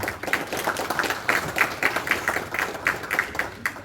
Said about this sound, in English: So a big round of applause for the temple, please.